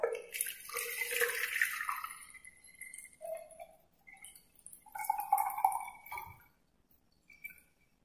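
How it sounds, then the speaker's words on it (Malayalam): Water is poured into a clear container until it is about three-quarters full, for an egg-floating science experiment. Close splashy pouring comes in bursts, fading to a few faint drips and trickles. "പാത്രത്തിന്റെ മുക്കാൽ ഭാഗത്തോളം വെള്ളം ഒഴിച്ചു കൊടുക്കുക."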